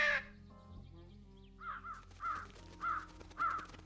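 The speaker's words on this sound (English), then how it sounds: "Oh, can I call more crows?" Crows caw in the video game Trüberbrook, four short harsh calls spaced about half a second apart after a brief chime-like tone, fairly faint and clear against a quiet ambient game background.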